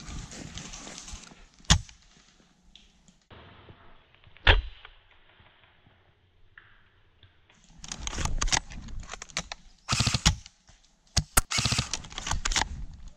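Video-game gunfire from a sniper firing down from above: sharp isolated cracks spaced apart, then a denser cluster of shots near the end, over quiet background.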